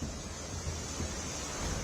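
The Tamsa river in Dehradun rushing in flood after a cloudburst, a loud, continuous roar of churning water mixed with wind buffeting the microphone, with no voices.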